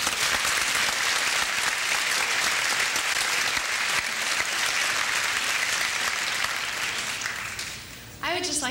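Sustained applause from a large audience at a fashion show, steady and dense clapping that fades out near the end, followed by a brief voice.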